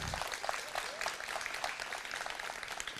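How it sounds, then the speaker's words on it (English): A school board meeting audience claps for all moms, a soft, steady patter of scattered hands heard from a distance, with a faint voice mixed in. "how about a big round of applause to all moms"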